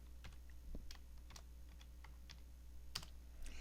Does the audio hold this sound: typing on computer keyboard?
yes